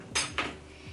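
Metal cutlery being put away in a kitchen, two bright clattering clinks close together, fairly loud, with no talk over them.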